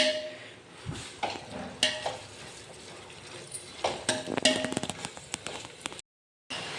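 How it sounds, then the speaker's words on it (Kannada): Garlic, mustard seeds, cumin, curry leaves and green chili frying in oil for a Malnad-style avalakki, heard as crackling and sizzling with scattered sharp pops and spoon-against-pan scrapes, close by. "ಇದಾಗ ನಾನು ಎಣ್ಣೆಗೆ ಹಾಕ್ಬಿಡ್ತೀನಿ ಒಂದೇ ಸತಿ ಬೆಳ್ಳುಳ್ಳಿ ಸಾಸಿವೆ ಜೀರಿಗೆ ಬೆಳ್ಳುಳ್ಳಿ ಕರಿಬೇನ್ ಸೊಪ್ಪು ಹಸಿಮೆಣಸು ಅಂತ ಹಾಕ್ಬಿಡ್ತೀನಿ"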